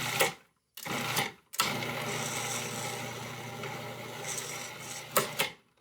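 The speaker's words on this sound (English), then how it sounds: "Now you puree these greens up until they get really small, minced." Dandelion greens being pureed in a blender until minced, a steady loud whirring motor with short bursts separated by brief pauses, then one long continuous run.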